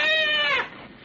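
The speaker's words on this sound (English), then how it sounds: "It was a cat." A cat, used as a radio drama sound effect, gives one loud, close, drawn-out meow that fades quickly at the end, heard alone without talk.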